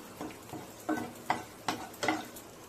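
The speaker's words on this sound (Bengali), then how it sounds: "অল্প একটু সাদা তেল দিচ্ছি, অল্প একটু দিচ্ছি। ফোড়নে দিচ্ছি গোটা গরম মশলা" Whole garam masala spices pop and sizzle in hot butter and oil in a pan, with a soft hiss and irregular crackling bursts roughly every half second, close and moderate.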